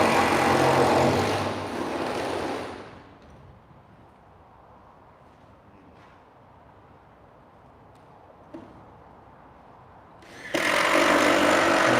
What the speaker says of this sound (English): Hard to talk with him drilling.